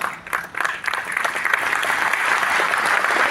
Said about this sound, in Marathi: टाळ्या वाजू नका.